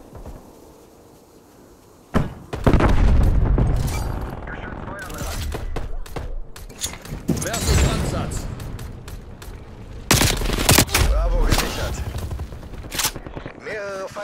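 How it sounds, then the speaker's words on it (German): Enemy turret gunfire in the Call of Duty Black Ops Cold War multiplayer game, loud bursts of rapid automatic fire and booming impacts that keep coming for most of the stretch, with a German voice announcing game events over the top. "Feindliche Geschütze aktiv."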